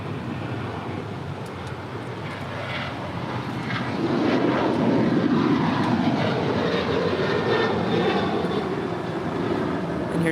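United Airlines Boeing 737-900ER, eight years old, departing LAX for Washington Dulles, a deep jet rumble that grows louder midway and stays strong, with faint talk in the background.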